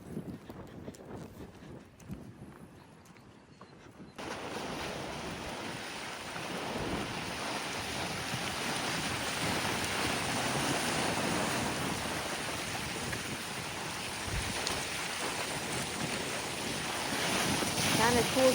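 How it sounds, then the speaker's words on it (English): Waves wash and surge along a pier path leading out to a lighthouse in Manitowoc, Wisconsin, a steady broadband roar of surf mixed with gusting wind buffeting the microphone, continuous and fairly loud after a quieter opening. "Kind of cool to see the waves bouncing along this path out to the lighthouse."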